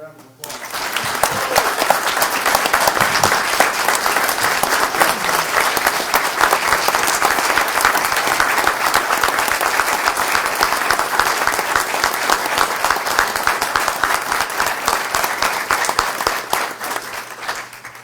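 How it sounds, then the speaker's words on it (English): Sustained round of applause from the audience at a London city council meeting honoring police officers, a dense, even wash of clapping lasting many seconds at steady loudness. "Let's give these guys a round of applause."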